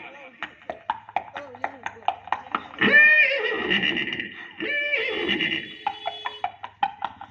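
A voice mimics a tonga horse's neigh, a shrill whinny in two long bursts, framed by rhythmic clicking like hoofbeats before and after.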